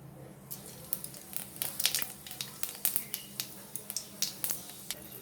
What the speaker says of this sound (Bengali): তেল গরম হয়ে গেছে এবার পাঁচ ফোড়ন দিয়ে দেবো